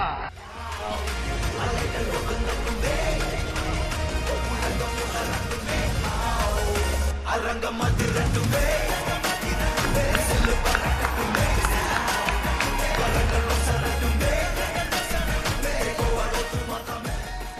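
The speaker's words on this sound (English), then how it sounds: "a huge round of applause for the eternal superstar, Sri Rajnikant" A large audience at a film festival closing ceremony applauds the superstar Rajinikanth, a dense, loud and sustained roar of clapping with crowd noise that fills the whole stretch without pause.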